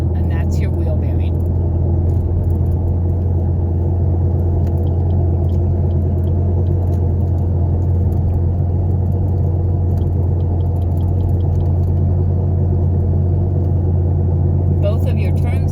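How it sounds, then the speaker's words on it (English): A car with a worn wheel bearing rolls along with a loud, steady low rubbing drone that persists under the road and engine rumble, heard from inside the cabin with occasional faint clicks. "You'll hear like a it's just a loud rubbing noise, and that's your wheel bearing."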